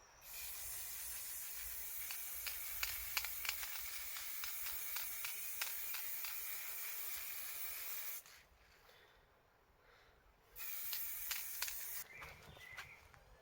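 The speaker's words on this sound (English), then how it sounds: "now we're going to switch to the black spray" Spray paint can hissing onto a gothic ruins terrain model in long continuous bursts, close by, with a short pause and then a second spray.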